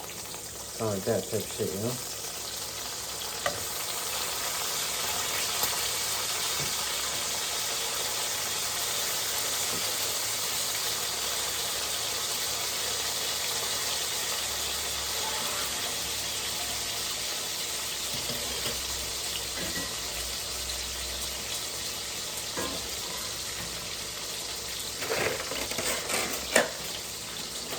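Bacon fries in a pan at a home breakfast, a steady crackling sizzle with scraping and clattering as strips are turned, while someone talks casually over it.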